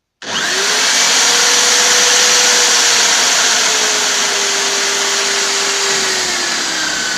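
An electric tool-sharpening grinder whines steadily at close range, a sustained high-pitched motor drone with a slowly gliding tone, running alone for several seconds.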